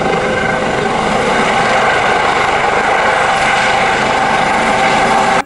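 A toy helicopter gives off a steady, loud whirring drone that holds without pause throughout, with no talking over it.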